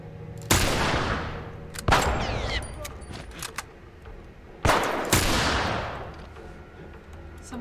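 Four heavy, widely spaced gunshots in The Last of Us, each a loud close blast with a long ringing decay, mechanical reloading clicks between them, and a voice talking.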